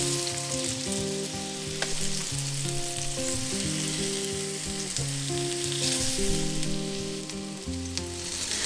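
Eggplant fries in plenty of oil in a pan, giving a steady, dense sizzle and crackle up close, heard under continuous background music.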